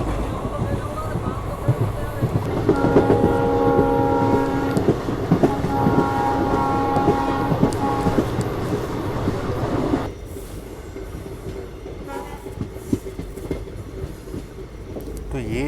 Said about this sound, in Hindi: ये थी गांधीग्राम बोताड पैसेंजर ट्रेन,